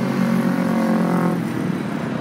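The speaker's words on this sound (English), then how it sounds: "there's motorcycles going by" Motorcycles pass by a home yard, a loud engine drone that holds steady, then fades as the bikes move away.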